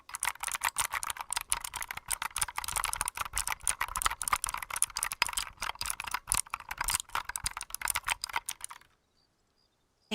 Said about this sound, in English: And it's just a keyboard.